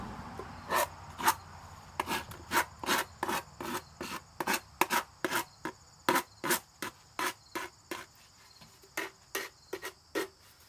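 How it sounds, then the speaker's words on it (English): A rasp files the corners of a wooden porch board in a fast series of short, crisp scraping strokes, about twenty in a row with brief pauses, close and fairly loud, with no talk. "rasp the corners a little bit"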